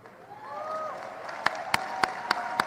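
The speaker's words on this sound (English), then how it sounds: "Polite applause." About five sparse, sharp hand claps ring out one at a time at an evenly spaced, unhurried pace over a quiet background with a faint whistling tone.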